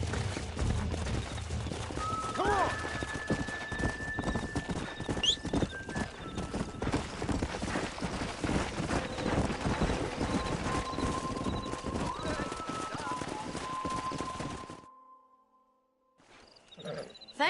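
Horse hooves clip-clop steadily and closely in Red Dead Redemption 2, joined by a stallion's long whinnies and neighs, the clatter running continuously before cutting to near silence and then briefly returning.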